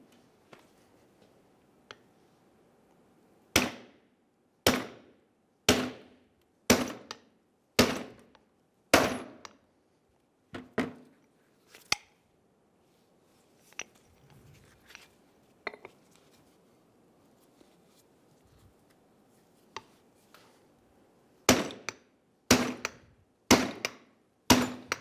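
Sharp metallic hammer blows ring out while a wheel bearing is pressed out of the rear drum of a 2000-2007 Ford Focus, struck in a run of evenly spaced clangs, then a pause with a few scattered taps, then another quick series.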